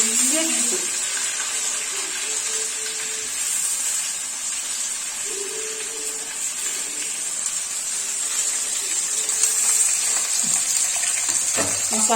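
Eggplant slices fry in hot oil in a pan for a Kerala-style oil-fried brinjal dish, giving a steady, close sizzle with occasional stirring and scraping throughout.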